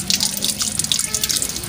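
Soaked lentils are washed and the water drained off, a close, continuous splashing and trickling of water with dripping, heard alone.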